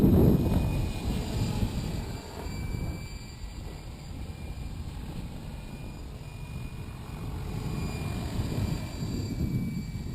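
A Logo 600 RC helicopter flies at low head speed, its rotor and motor making a continuous droning hum that is moderately loud and slowly rises and falls in level, with no talking.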